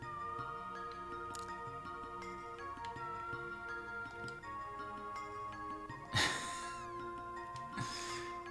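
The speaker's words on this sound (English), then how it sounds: "Kitty Cat only likes him." A cat in the Chrono Trigger video game gives a couple of meows near the end, rising over bright looping game music with no talking.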